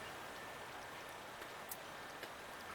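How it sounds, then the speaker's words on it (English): Snowmelt water streams steadily off a sloped roof gutter at an off-grid homestead, a constant close, rain-like wash of splashing with a few brief louder drips and no talk. "We've got a good stream of water coming out right now as it melts off the roof."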